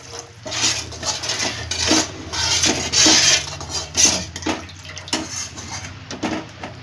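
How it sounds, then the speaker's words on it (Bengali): Water poured into a pan of simmering lentil-fritter curry, a close splashing pour mixed with clatters and scrapes of a utensil against the pan, rising and falling in uneven bursts. "এবার আমি জল দিলাম, পরিমাণ মতন জল দেবো।"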